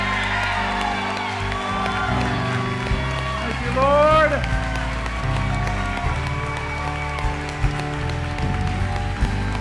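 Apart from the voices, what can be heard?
congregation clapping hands and shouting in worship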